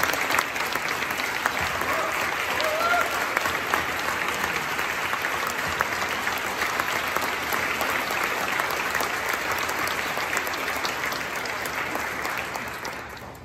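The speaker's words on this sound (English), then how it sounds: "Let's give a round of applause." Sustained, thick applause from a concert audience at a patriotic choral performance, honoring medical workers who stand, many hands clapping steadily at full volume for over thirteen seconds before easing slightly at the end.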